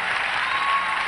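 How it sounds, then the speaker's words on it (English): A church congregation claps hands together in a dense, even burst of applause. "Come on, clap your hands."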